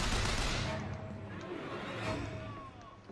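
Machine gun fire in the video game Bioshock Infinite, a dense, muffled fusillade of rapid shots that is loudest at the start and then trails off into a rumbling wash, heard at moderate to low volume.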